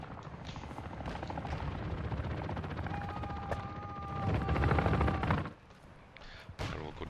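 A helicopter in a Call of Duty game, its rotor thrum continuous under scattered gunfire bursts, swelling louder in the middle then dropping away abruptly near the end.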